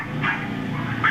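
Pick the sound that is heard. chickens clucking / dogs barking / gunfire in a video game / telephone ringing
dogs barking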